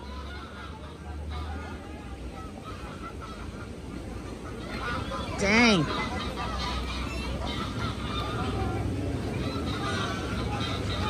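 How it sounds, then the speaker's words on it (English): Ducks honking and squabbling among a noisy crowd, with one sharp honk rising above a constant background of chatter and bustle. "it's a war! A war of ducks!"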